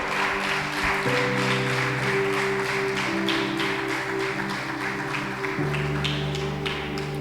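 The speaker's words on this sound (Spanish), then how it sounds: "darle un aplauso al Señor" A church congregation applauds, giving praise to the Lord: steady rhythmic clapping from many people over sustained, tonal musical chords that hold and shift throughout.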